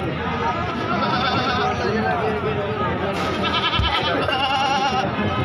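Goats bleat at a busy goat market at Ludhan, several loud overlapping calls rising over crowd babble and general noise, with no clear talk.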